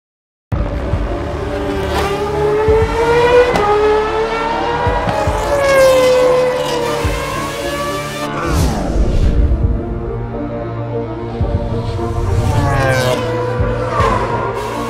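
A Formula 1 car engine screams around Monza in the F1 2013 racing game on PC, loud and continuous, rising in pitch through the gears and dropping sharply under braking, with no other sounds over it.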